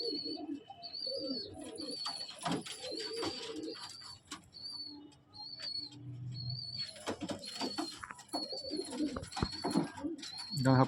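Pigeons coo in a loft in low, repeated murmurs, joined by steady high chirps and scattered clatter, with no voices.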